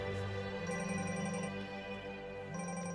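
A phone rings with a repeating electronic ringtone melody, steady and fairly quiet, with no voices over it.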